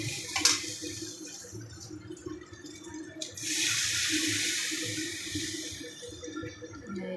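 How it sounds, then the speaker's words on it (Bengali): Water poured into a paneer curry with potatoes as it cooks, a close running splash that starts softly and then grows into a steadier, louder stream partway through, with no talking. "এতে একটু জল দিয়ে দেবো।"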